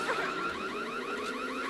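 A door alarm going off in the video game Back 4 Blood, a rapid warbling electronic siren that cycles steadily and sounds faint and distant.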